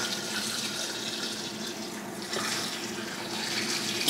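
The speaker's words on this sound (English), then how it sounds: "what I'm going to be doing now is pouring the hot water over the sorrel." Hot water poured over fresh sorrel in a kitchen, a steady close splashing gush with a constant bright hiss, continuous for the whole stretch without talk.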